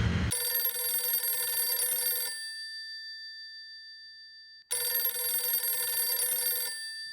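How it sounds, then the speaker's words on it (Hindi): A telephone rings in two long bursts of bright, rapid bell-like trilling separated by a silent gap, fairly faint with a lingering tone between rings. "ये किस बुर्बक का फोन टुनटुना रहा रे?"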